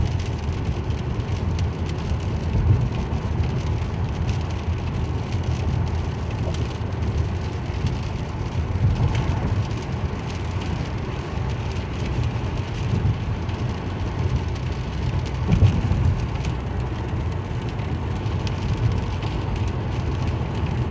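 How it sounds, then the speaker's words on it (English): Heavy rain drums on a car travelling along a highway in a rainstorm, a steady broadband rush of road and engine noise with a constant patter lasting the whole time. "driving on the highway in a rainstorm."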